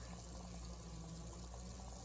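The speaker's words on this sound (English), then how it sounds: "Minimal water disturbance, and at the same time you get these nice, neat little fountains at the top" Air stone bubbling inside an aquarium sponge filter, a steady close hiss of fine bubbles and gentle water burble running unbroken throughout.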